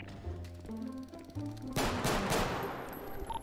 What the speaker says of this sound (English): Suspect is dead. Shots fired.